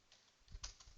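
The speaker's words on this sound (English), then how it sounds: "I can't talk and type at the same time" A few soft keystrokes on a computer keyboard, faint and close, in a brief sparse cluster with no talk.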